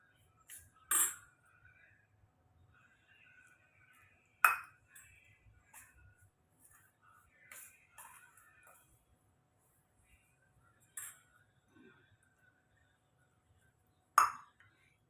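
A ladle stirs poha mixed with boiling water in a vessel, giving sparse metallic clinks and scrapes at irregular intervals, each sharp and close, separated by near silence.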